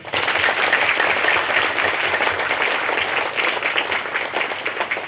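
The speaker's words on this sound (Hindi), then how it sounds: "हम सभी को इनके लिए, इस पल्लीवासियों के लिए गड़गड़ाहट से तालियां बजाएं" Loud, dense applause from a church congregation honouring parishioners at a silver jubilee Holy Mass, continuous and steady throughout with no talking.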